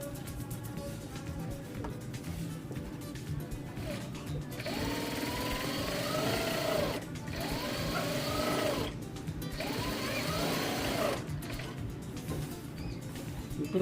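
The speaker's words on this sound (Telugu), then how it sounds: "ఇప్పుడు మనం హ్యాండ్స్ కుట్టేసుకోవాలి" A sewing machine stitching the sleeves of a vest, running in steady whirring bursts of a few seconds each with brief pauses between, close and fairly quiet.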